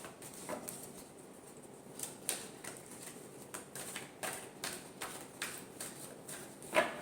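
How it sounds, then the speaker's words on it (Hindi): Tarot cards being shuffled by hand, a string of soft papery riffles and taps in an uneven rhythm, close and fairly quiet, with a sharper snap near the end. "last shuffle"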